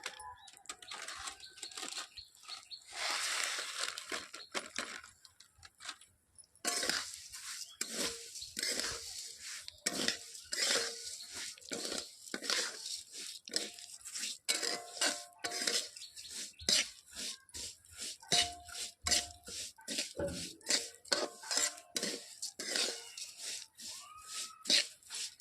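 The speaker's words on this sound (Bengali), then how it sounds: "ঘিটা আমার গরম হয়ে গেছে, এবার আমি সেমুইটা ঢেলে দিচ্ছি। ভালো করে ভেজে নেব।" Vermicelli frying in hot ghee in a pan, stirred with a utensil: sizzling hiss with repeated scraping and clinking of the spoon against the pan, steady and close.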